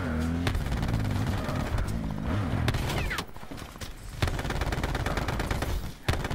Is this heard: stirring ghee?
no